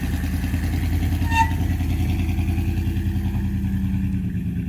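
An old Dodge Ramcharger engine, run after 17 years sitting, idles with a steady, lumpy rumble and faint clatter, and a brief squeak rings out near the start.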